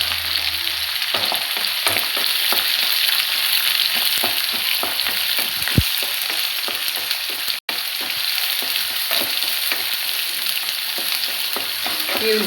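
Two onions fry and sizzle in a pan for okra gojju, a steady crackling hiss with occasional stirring scrapes and taps, no voices.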